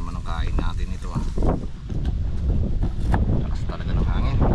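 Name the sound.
strong wind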